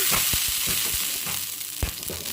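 Pesarattu, a green gram dosa, sizzles steadily on a hot pan, with a dense, continuous frying hiss and a few soft clinks and scrapes from a spatula or ladle.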